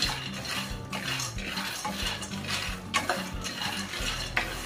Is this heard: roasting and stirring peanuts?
yes